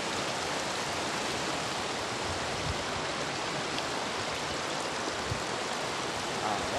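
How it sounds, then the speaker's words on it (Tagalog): A clear river in Bulacan rushes steadily nearby, a continuous broadband wash of flowing water with no pauses and no voices. "Andito tayo ngayon sa isang magandang ilog."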